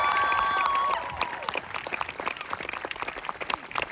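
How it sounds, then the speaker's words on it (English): Audience applause for faculty at a college year-end ceremony, a scattered round of clapping from a seated crowd that follows a brief tone and then continues at a moderate level. "So another round of applause for our faculty."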